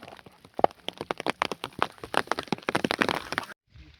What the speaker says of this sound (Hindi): बारिश लगी हुई है, इसे देखिए।